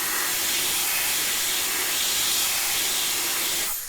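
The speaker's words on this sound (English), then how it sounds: "Definitely noticeably more air is being pushed towards my hand." A GOOLOO F1 electric compressed air gun blows at full speed, a loud, steady, close rushing hiss that holds for nearly four seconds before cutting off abruptly, with no talking.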